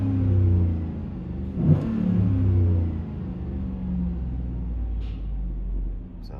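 2015 Chevy Tahoe with a 5.3L engine and aftermarket exhaust, heard from inside the cabin as a deep rumbling drone with a couple of rev swells.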